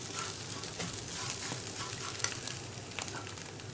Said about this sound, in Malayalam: ഇനി ഇതൊരു 10 മിനിറ്റോളം ഇതിങ്ങനെ ചെറിയ തീയിൽ നന്നായിട്ട് നമുക്ക് ഫ്രൈ ചെയ്തെടുക്കണം.